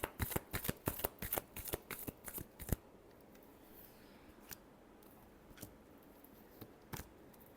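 Tarot cards shuffled in a quick run of crisp riffling flicks for about three seconds, then sparse single card taps over a quiet background, close and alone.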